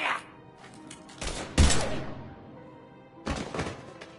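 A few heavy gunshots in the Mass Effect 3 sci-fi game, isolated thumping blasts spaced apart amid quieter ambience, moderately loud and close.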